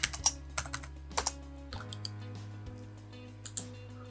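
Typing on a computer keyboard during 3D CAD work gives scattered, crisp key clicks in short clusters, close and fairly quiet over a steady low hum, with no talk.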